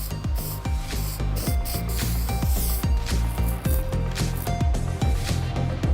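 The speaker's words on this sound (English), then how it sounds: "Lightly sand the surface." Hand sanding of body filler over a car dent, quick rhythmic back-and-forth rasping strokes, close and loud, repeating steadily throughout.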